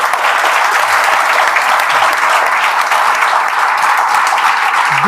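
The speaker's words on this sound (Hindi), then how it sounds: "ताली बजा दीजिए" A village gathering honoring a guest breaks into loud, continuous audience applause, dense clapping from many hands held at an even level throughout.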